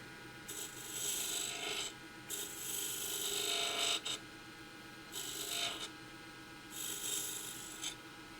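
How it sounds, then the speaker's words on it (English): Spindle gouge cutting beads on a spinning wooden gavel spindle at the lathe, four scraping, hissing cuts of one to two seconds each separated by short pauses over a steady motor hum. "You're cutting with just the leading edge of that spindle gouge"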